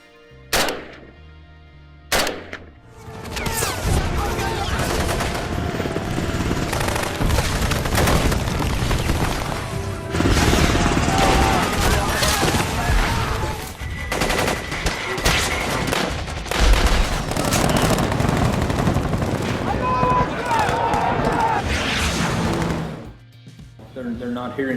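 AK rifles fire in rapid, sustained bursts for most of the stretch. The shooting is loud and dense, with overlapping shots as in a firefight, after a couple of isolated shots at the start.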